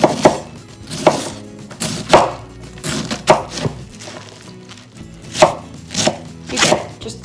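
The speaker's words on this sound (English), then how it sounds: "You get it, just chop it up." A knife chops cabbage on a cutting board in a series of about ten loud, close thunks, spaced irregularly roughly every half second to a second.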